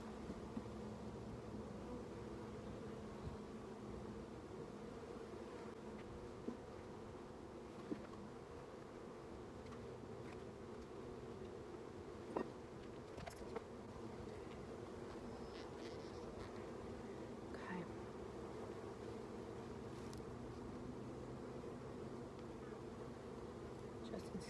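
Honeybees hum at an opened hive during an inspection, a low, steady drone that carries on throughout, faint, with a few brief ticks and handling knocks.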